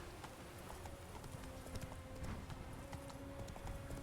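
Black horse's hooves clip-clopping steadily in The Witcher 3, a continuous even trot heard quietly through a dense bed of game ambience and music.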